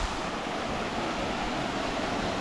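A waterfall pours into a clear rock pool, giving a steady, dense roar of rushing water close by with no voices over it.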